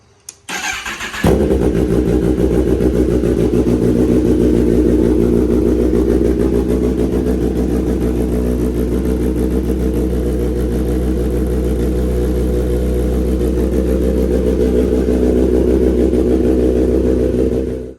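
A motorcycle engine cranks and catches after a second, then settles into a loud, steady, throbbing idle close by that runs to the end.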